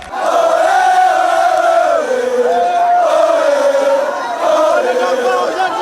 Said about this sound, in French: la foule a du mal à contenir sa joie au coup de sifflet final